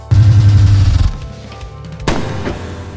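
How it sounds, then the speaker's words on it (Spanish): A single gunshot sound effect in a zombie apocalypse audio drama, a sharp, loud boom at the start with a ringing tail, followed by a second thud about two seconds later. "¿Un disparo?"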